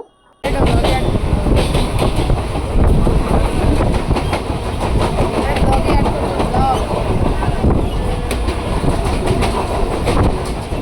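Interior of a moving passenger train, a loud, steady rumble with rhythmic clickety-clack of wheels over rail joints, continuous after a brief quiet start.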